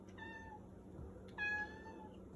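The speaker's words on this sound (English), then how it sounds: "this is cat number 1." A pet cat meows twice, a short clear call and then a longer one after a pause, nearby over a quiet indoor background.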